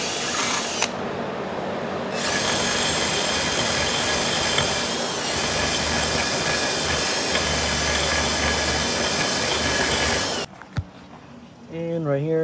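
A power drill bores a hole in a TIG-welded part on a Dodge SRT-4 in a garage, running as a steady, loud hissing whir for about ten seconds before stopping abruptly, with a voice speaking briefly afterward.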